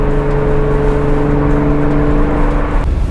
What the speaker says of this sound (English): So we got a BMW coming.